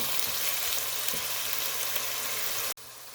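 Onions frying in a pan with salt for a spicy Jaffna-style mussels curry, a steady close sizzle running unbroken until it cuts out briefly near the end.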